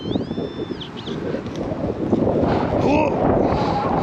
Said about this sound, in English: the wind's blowing today